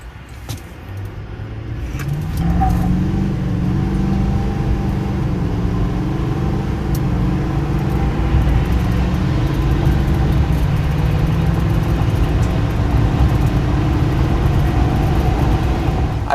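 A 2024 GMC Sierra 2500 AT4X diesel pickup with an Allison transmission and 342 rear end drives along, its steady engine and road drone rising in the first seconds then holding loud and constant with no talk.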